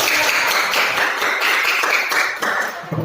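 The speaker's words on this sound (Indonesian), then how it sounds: "Tepuk tangan dulu buat kelompok" Students in a classroom clap for a presenting group, close and loud. The crisp claps run continuously for about three seconds.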